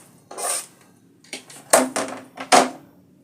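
Metallic clanks and scrapes ring from a cooking pot as bone broth ingredients go in, several sharp clatters in a row, close and fairly loud, with quiet gaps between them.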